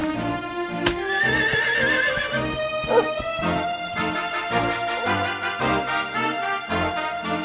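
A horse in Dragon Quest XI whinnies with a long, wavering neigh over rhythmic music and steady hoof-like beats, moderately loud and close.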